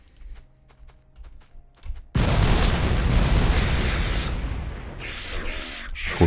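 Heavy explosions from grenades in the modded Factorio video game, erupting suddenly after faint clicks and holding as a loud, sustained rumbling blast with scattered bursts on top.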